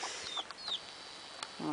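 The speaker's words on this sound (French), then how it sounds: "Ici mes 3 poules." Soft, sparse clucking from three silkie hens, with short chirpy calls and a low throaty cluck at the end, moderately close.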